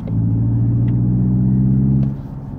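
A 2025 Hyundai IONIQ 5 N held in 6th gear at full throttle, giving a loud, steady, deep synthetic engine drone for about two seconds before easing off, close to the car with faint clicks.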